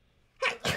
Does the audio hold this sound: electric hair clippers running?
no